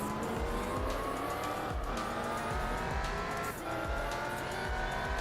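Race cars in Gran Turismo 4, including a Mazda RX-7 and Honda NSX, drone with high continuous engine whine, shifting pitch and tire squeal, loud and steady throughout.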